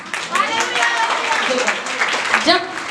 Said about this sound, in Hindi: आप लोगों ने बहुत जोर से ताली बजाया